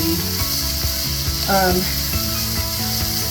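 A pot of vegetarian chili sizzles and simmers steadily, close and constant, with faint clinks and soft mechanical ticks scattered through it.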